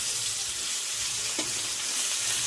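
Raw green banana with salt fries in hot oil, giving a steady close-up hiss and sizzle with one brief louder crackle, and nobody speaks over it.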